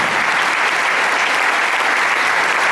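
A church congregation claps together in steady, dense applause that fills the room at close range and holds evenly from start to finish, with no voices rising above it.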